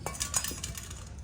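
Metal utensils clink and clatter as dishes are scrubbed and washed by hand in a village kitchen, with a few sharp, close knocks followed by softer rubbing.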